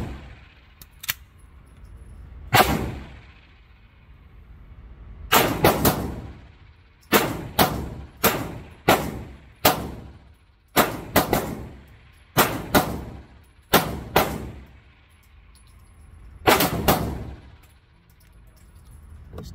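Hi-Point C9 pistol firing repeatedly at a range, loud sharp reports spaced irregularly, some in quick pairs, with quiet gaps between shots and no talking.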